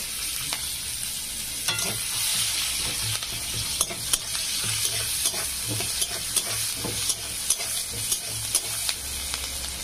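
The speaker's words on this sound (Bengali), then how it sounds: "পেঁয়াজটা আমি একটু হালকা করে ভেজে নেব।" Chopped onion and whole cumin fry in a pan, a steady soft sizzle with frequent sharp spatula taps and scrapes, close and continuous throughout with no talk.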